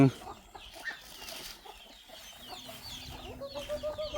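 Chickens cluck softly at a rural farmhouse in the evening, faint scattered calls and rustling over a quiet outdoor background, with a brief voice-like sound early on.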